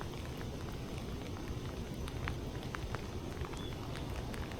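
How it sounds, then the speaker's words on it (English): Light rain falls steadily on a fishing outing as a constant dense patter with faint scattered drips, close by and unbroken, with no voices. "if this rain would just quit"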